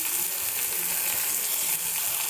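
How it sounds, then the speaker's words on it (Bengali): Chopped tomatoes hit onions already fried reddish in hot oil, giving a steady, close sizzle and crackle of frying that runs unbroken through the short stretch with no voices. "পেঁয়াজটা লাল লাল করে একটু ভাজা হয়ে গেছে, তার মধ্যে টমেটো কুচিগুলো দিয়ে দিচ্ছি"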